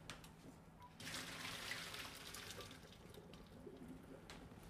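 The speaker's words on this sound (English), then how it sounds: "I'm going to take the almonds and first I'm going to pour the hot water off, of course." Hot water poured off blanched almonds into a sink, a faint rushing stream that starts abruptly about a second in and keeps going steadily to the end.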